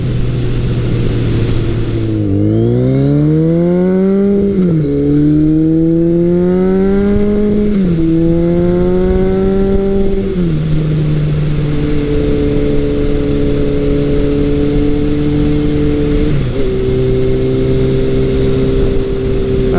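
A 1981 Kawasaki KZ1000 motorcycle with a Delkevic exhaust is heard close up. It is blipped several times around 3,000 RPM, rising and falling in pitch, then settles into a steady, loud idle with one brief dip near the end.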